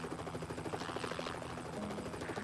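Helicopter hovering close beside high-voltage power lines carrying 230,000 volts, a steady near rotor chop and whine with a rhythmic low pulse throughout, no voices.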